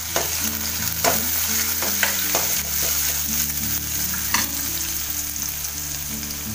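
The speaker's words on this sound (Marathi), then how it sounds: "लसूण जरा चांगलासा लालसर करून घेऊया." Garlic and cumin sizzling in hot oil for a tempering, a loud steady fry with repeated spatula stirring clicks and scrapes over a low hum, no talk.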